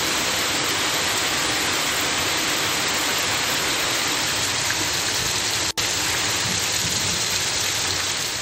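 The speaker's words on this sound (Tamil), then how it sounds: "திருவள்ளூர் மாவட்டம் திருத்தணியில் மாலை நேரத்தில் பரவலாக மழை பெய்தது" Heavy evening rain pours down across Tiruttani in Tiruvallur district, a constant, loud, broadband hiss with no pauses and no voices.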